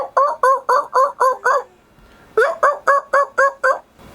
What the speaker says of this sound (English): both males and females yelp as a way of communicating